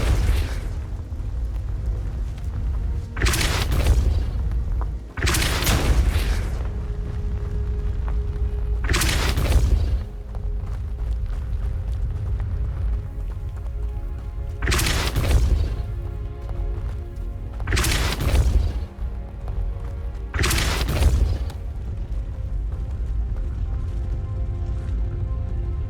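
Spell effects in the video game Hogwarts Legacy, six heavy booming blasts in uneven pairs and singles over a steady low background rumble.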